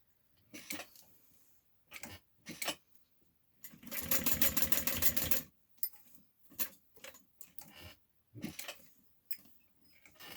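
A sewing machine stitches down part of a Valora bag in short close bursts, with one longer steady run of rapid stitching in the middle, separated by quiet pauses and small clicks.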